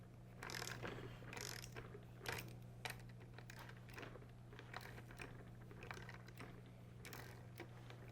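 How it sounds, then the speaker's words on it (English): A ratchet cracks loose tight 6mm bolts held with Loctite on a Luba high axle, giving repeated close clicking pawl bursts with short pauses between, fairly quiet over a steady background hum. "I'm gonna crack them free with the ratchet"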